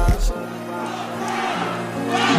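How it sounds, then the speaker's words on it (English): Fresno State volleyball fans at a championship match make a sustained crowd roar with shouting in an indoor arena, opening with a thump of noise and swelling again toward the end. "Fresno State fans up and making some noise"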